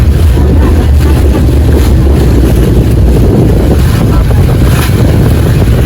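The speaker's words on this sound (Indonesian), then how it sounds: "BTW ini slow boat ya, bukan speedboat." Slow boat ride at sea aboard KM Dharma Rucitra 7, carried by a loud, constant low engine rumble and splashing water, heavily buffeted by wind noise on the microphone.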